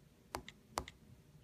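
Two quiet, distinct taps on an iPhone 5 touchscreen keyboard running iOS 9 beta, each a crisp click followed by a faint softer echo, close and isolated.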